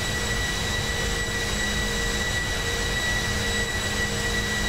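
Steady, loud broadband roar of an airliner's jet engines in cruise flight from Amsterdam Schiphol to Budapest, a continuous cabin drone with faint tonal whines, unbroken and without talk.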